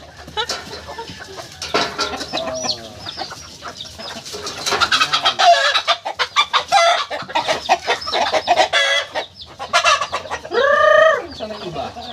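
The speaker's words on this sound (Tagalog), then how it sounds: "Sugod na yung mga manok ko." A flock of chickens clucks busily and continuously, with overlapping calls and a louder rooster-like crow near the end, close by.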